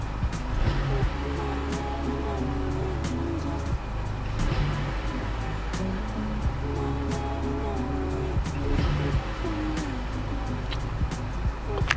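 Car engine running and revving under throttle while RPM readings are checked on an OBDII scanner, a steady rumbling drone with swells in intensity, loud and continuous throughout.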